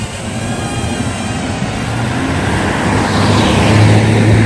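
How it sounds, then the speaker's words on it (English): A car drives past on a road, a broad rushing engine and tyre noise that swells steadily louder toward the end, with no voices. "we have a car coming from out of here"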